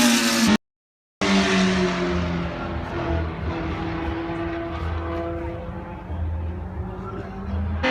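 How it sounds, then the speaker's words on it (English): A James Hunt McLaren M26 Formula 1 car roars down the main straight at Brands Hatch, loud and harsh as it passes close by, then fades into a receding drone. A short gap of silence comes near the start. "A drive-by in that James Hunt McLaren F1"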